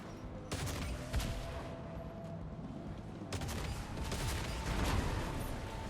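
Heavy gunfire, likely from a shooter game, fills the clip with dense rattling volleys that surge sharply at the start and again near the middle, continuing steadily at close, loud level.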